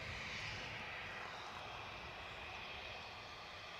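A Ryanair airliner taxiing out at Edinburgh Airport, its engines giving a steady, fairly distant broadband roar and whine that holds level throughout with no voices.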